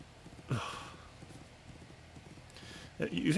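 Rhythmic horse hooves clip-clop steadily in The Unicorn Princess game, with a louder burst of movement near the end and a voice talking over them.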